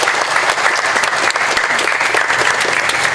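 A crowd applauds Congressman Tom Tiffany at a Hmong festival in Wausau, steady loud clapping filling the whole moment without pause.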